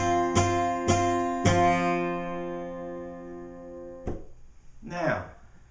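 Three strummed guitar chords ring out one after another, each sustaining and overlapping, followed by a short voice at the end.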